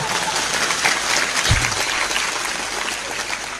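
Audience at an Indonesian Islamic religious lecture gives loud, sustained applause, a dense and steady wash of clapping that fills the whole stretch without pause.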